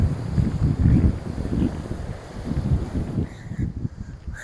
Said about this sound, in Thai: ลมแรงมากแต่ก็ไม่ได้หนาวนะ